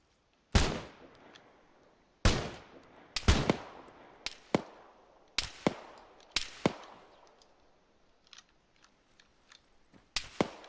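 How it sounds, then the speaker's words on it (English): Gunshots exchanged as return fire in the modded Arma 3 military video game, sharp, separate cracks each followed by a short echoing tail, some close and loud, others fainter and more distant, arriving irregularly with no talking. "And they're having return fire."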